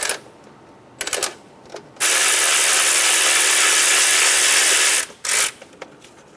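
A 10mm socket works the fuel line bolt on a 2005-2015 Toyota Tacoma 2.7L four-cylinder, with short ratchet clicks followed by a loud sustained power-tool whir lasting about three seconds, then more brief clicks.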